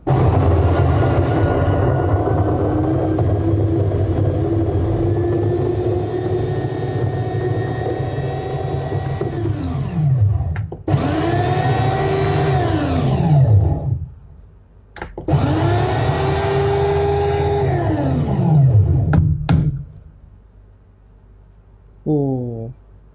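An FGM 9702 electric coffee grinder grinding coffee beans at a setting for pour-over, with a loud whirring motor running in several bursts separated by short pauses, each spinning down as it stops.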